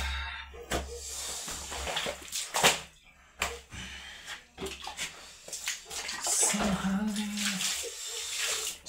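Clothes being washed by hand in cold water in a village, with splashing, sloshing and scrubbing bursts, irregular and close, occasional clunks and a brief voice in the background.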